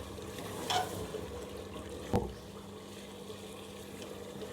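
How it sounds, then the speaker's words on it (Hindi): Mutton pieces browning in ghee with sliced ginger, green chili and garam masala, a low steady sizzle with stirring scrapes and one sharper clatter of a spoon against the pan. "गोश्त को भून लूँगी 5 से 7 मिनट के लिए"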